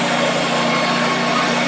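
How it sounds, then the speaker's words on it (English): A loud, steady whine of a Wood-Mizer sawmill cutting pine for trim, a dense continuous roar with no pauses or talk. "Sawn on a wood miser."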